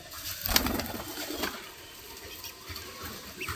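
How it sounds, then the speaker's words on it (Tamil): Fancy cross-bred pigeons coo softly and intermittently at close range, with a sharp click or flutter near the start amid light background noise. "இது எல்லாமே பழைய புறாக்கள் தான்"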